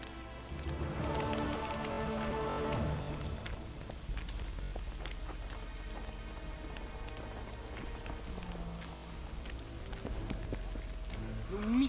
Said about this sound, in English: Who the hell commanded the heavens to rain?